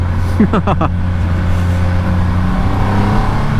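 A 2020 Triumph Rocket 3 R motorcycle running in second gear at about 3,000 RPM gives a loud, steady engine drone, with a brief voice heard early on.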